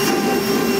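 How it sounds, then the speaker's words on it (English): A steady, loud whining roar of a vacuum cleaner running continuously, close up, with no other sounds. "I'm gonna go ahead and come back with the vacuum cleaner"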